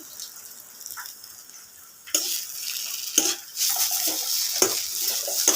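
A spoon stirs a soya chunk and chana dal dhoka mixture in a pan, scraping and clinking in uneven bursts with a faint sizzle underneath, close and fairly quiet, with no speech.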